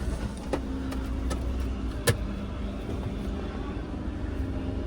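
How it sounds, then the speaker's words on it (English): A car's engine starts with a short cranking burst, then settles into a steady low idle hum with faint rumble, close by and without talk. "Let's give it a start."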